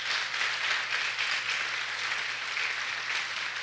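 A congregation clapping in praise for Pastor Carlos during a church service, a steady, even sheet of applause from a crowd at moderate distance with a low background hum.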